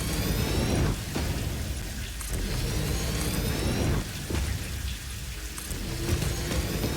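Steady rain falls in a video game, a dense, continuous patter with a soft low rumble underneath and no talking.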